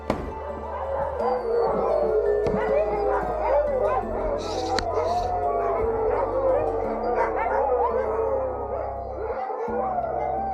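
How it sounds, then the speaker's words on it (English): A large pack of sled dogs at a wilderness camp in mid-Sweden in January, barking, yipping and howling together in a loud, continuous chorus with a few whimpers, near and far at once. "the sled dog and wilderness camp of Hendrik Stachnau"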